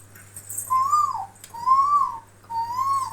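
Someone whistles to imitate a sparrow's call: three separate rising-and-falling whistled notes, each about half a second long, fairly clear over a low steady hum.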